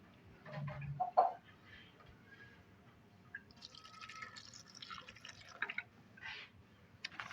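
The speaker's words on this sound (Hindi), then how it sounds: "साथ में इसमें पानी डालूंगी।" Water trickles and splashes into a blender jar in short bursts, quiet and close, with faint bird chirps in the background.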